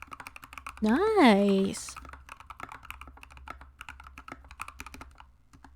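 Typing on a Melody 96 mechanical keyboard: soft, quick clicky keystrokes in an irregular stream, fairly faint, with a voice briefly speaking over the start.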